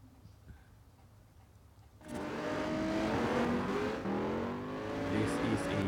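A Honda NSX engine races in NFS No Limits, starting suddenly after quiet and then holding a loud, steady, rising roar that sounds like acceleration on a country road. It runs near and continuous to the end.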